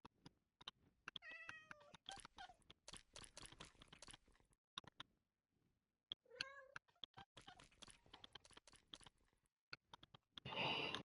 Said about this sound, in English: Oh wait, I think we need to tame the cats too.